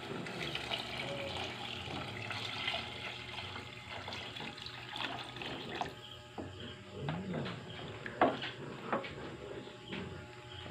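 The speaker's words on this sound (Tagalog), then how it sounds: "lalagyan na natin ng tubig mga kapis" Water pours steadily into a cooking pot for chicken soup with misua noodles, a continuous near splashing that runs throughout, with faint birdsong in the background.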